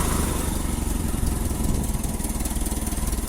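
An old carbureted gas engine runs after a cold start in winter, a loud, steady, rough chugging idle with fast even pulses, close by and uninterrupted.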